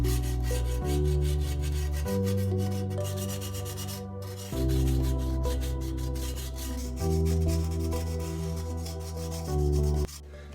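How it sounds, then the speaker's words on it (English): Hand sanding of a freshly painted WW2 M1 helmet, a steady rasping rub in repeated back-and-forth strokes, loud and close, with a brief pause midway. "And now I'm just gonna sand it."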